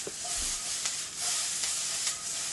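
Asparagus sizzling in a hot pan, a continuous loud bright frying hiss with a few faint stirring scrapes, no voices.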